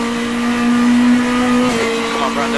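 A simulated Renault R.S. 01 race car in rFactor 2 drones at a steady high pitch around Montreal, then the note drops and climbs as it shifts, with a voice probably present under the engine.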